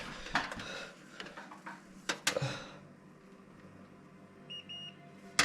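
An electrical continuity tester beeps while checking wiring during a power panel and breaker install, with short sharp tones amid clicks and handling knocks, then a faint two-tone beep pair near the end.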